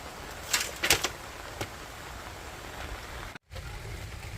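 Steady hiss of rain falling outdoors on a vegetable garden during a tomato harvest, with a few sharper drops or taps early on and a brief cut in the sound near the end.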